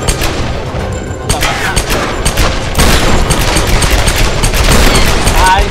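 Gunfire in Tomb Raider (2013), loud continuous volleys of rapid shots and bursts from close range, with a voice talking over the shooting.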